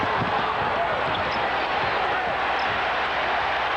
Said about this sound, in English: Crowd responding to the defensive work by the Bulls